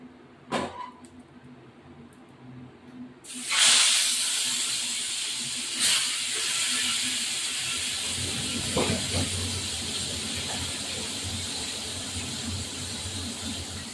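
Two tilapia fish dropped into hot oil in a pan, an abrupt sizzle that then settles into a steady hiss with occasional pops and sputters, loud and close.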